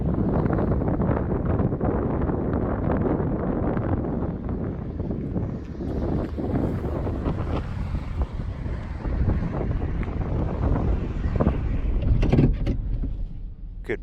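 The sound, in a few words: strong wind blowing outside by the Columbia River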